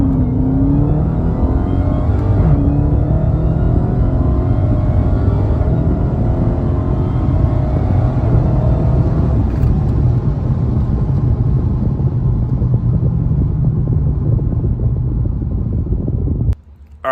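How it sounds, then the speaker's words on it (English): A supercharged car engine roars loudly and continuously through a wide-open-throttle pull, a dense sustained drone with rising pitch that cuts off abruptly at the end. "that was an awesome wide open throttle pull that we did there"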